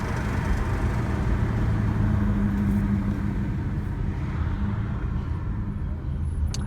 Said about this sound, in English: Ooh, that's not a good truck sound.